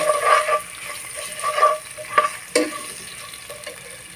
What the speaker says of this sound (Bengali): সামান্য পরিমাণে হলুদের গুঁড়া দিয়ে একটু ভেজে নেব